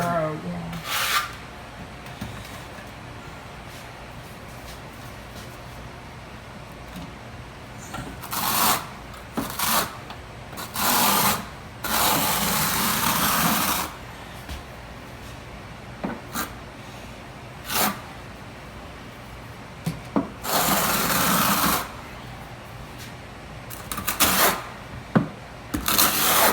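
A 1/4 inch notch trowel spreads tile mortar on a kitchen splashback wall, making repeated scraping rasps in short bursts of a second or two with quiet gaps between, and brief talk in places.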